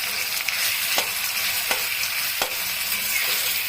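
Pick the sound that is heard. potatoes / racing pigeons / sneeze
potatoes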